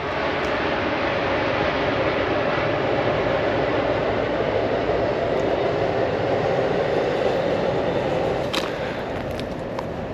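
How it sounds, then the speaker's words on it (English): A train rumbles past nearby with a steady, dense roar that holds for the whole stretch, a few brief higher squeals near the end. "There goes our train."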